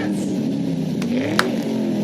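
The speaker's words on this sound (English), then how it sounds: "And Anna, any car that's revving its engine works here." A car engine revs with a rough, droning tone that climbs and sags in pitch. It holds steady at a fairly loud level, with one faint click partway through.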